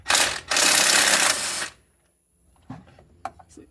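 Impact driver breaking loose the crank bolt on a 2001 Ford F-250 Super Duty: two loud rattling bursts of hammering, the second about a second long, followed by quiet clinks and handling noises.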